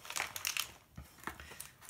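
A huge mailing envelope is handled and opened, giving close crinkling and crumpling of paper and plastic wrapping in irregular bursts with brief tearing sounds.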